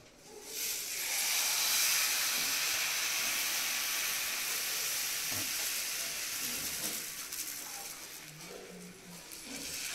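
Slices of eggplant fry gently in a pan for a breakfast dish, giving a steady soft hiss and sizzle that runs through the whole stretch with a few faint clinks beneath.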